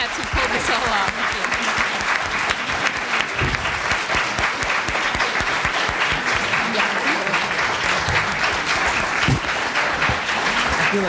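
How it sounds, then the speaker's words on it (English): Long, even applause from an audience honoring panelists at a library artists and architects event, sustained clapping with scattered voices underneath. "And a huge round of applause for our panelists."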